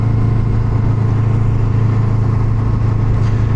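A 1977 Honda Hondamatic motorcycle engine drones steadily while being ridden in drive, with a loud constant low hum and wind rush and no change in revs. No voices are heard.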